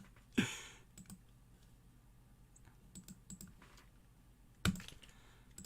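Light, scattered clicks of a computer keyboard being typed on, with two louder thumps against the desk separated by a few seconds.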